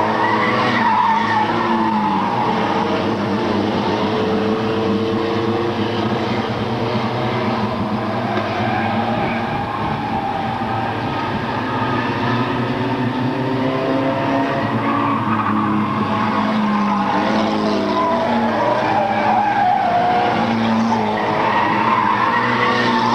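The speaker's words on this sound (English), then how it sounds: "Got his little cover type 10 out there just ripping it around the track." Race cars at a 1997 event tearing around the track, tires skidding and squealing over a steady, loud engine roar that never lets up.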